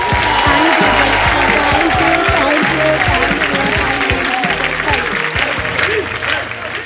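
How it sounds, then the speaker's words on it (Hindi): A studio audience on the Wheel of Fortune game show claps loudly and continuously, dense close applause that holds steady for the whole stretch and only thins slightly at the very end. "जोरदार तालियां इनके लिए"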